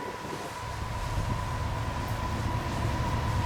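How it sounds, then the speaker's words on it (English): A CN freight train, number 435 hauled by locomotives 2969 and 8844, passes near Paris, Ontario, with a steady, rising rumble and a faint sustained tonal hum, heard from a distance without talk. "We got train 435 headed our way at Paris West, near Paris, Ontario"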